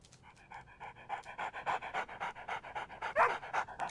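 A dog pants steadily and rapidly in the VR video game Good Dog, Bad Dog, with rhythmic breathy huffs close up that grow a little louder toward the end, with no talking.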